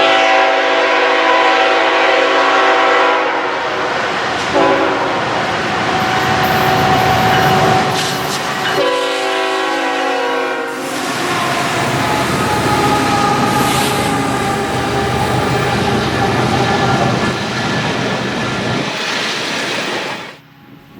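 At Rich Mountain Summit, a northbound grain train led by a Tier 4 GE GEVO locomotive blasts long, loud horn calls over a heavy, rolling rumble of the passing train, close and continuous until it fades at the end.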